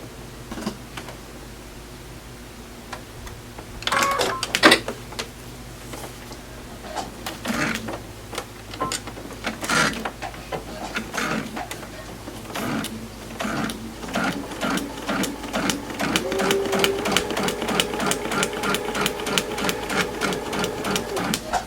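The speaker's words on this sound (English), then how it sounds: "So let's go sew that line right under number 12." A sewing machine stitches a fabric seam in fast, even mechanical bursts with a whirring motor, pausing between runs and speeding into a steady rhythmic chatter near the end, with a voice talking briefly over it.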